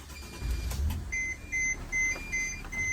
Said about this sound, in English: you're going to hear beeping from the jacks